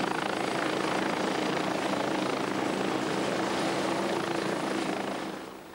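A Scout helicopter flying steadily nearby, its rotor drone and engine whine loud and constant, then fading slightly at the end.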